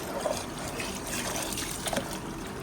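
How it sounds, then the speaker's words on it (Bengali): Rice being washed by hand in water, with steady trickling and sloshing of liquid close by, soft and continuous throughout, with no talking. "চালটা ভালো করে ধুয়ে নিই।"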